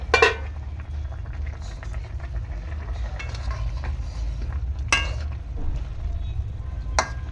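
Vegetables boil in a pot with a low, steady bubbling and a soft simmering hiss. A few louder clinks or stirring taps break through at intervals.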